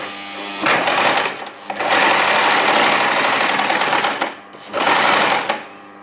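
A domestic sewing machine sews a fabric seam in reverse, running loudly in three bursts of steady motor whir separated by short pauses.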